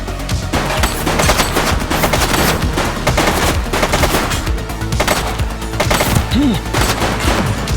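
A shooting suspect opens fire in The Precinct police game, with loud, rapid bursts of gunshots cracking in dense, sustained volleys, and a brief siren-like rise near the end.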